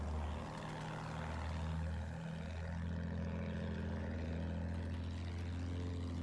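A steady propeller aircraft engine drone from a Battlefield 1 warplane hums loudly and continuously, with a brief dip and pitch shift partway through, heard alone without voices.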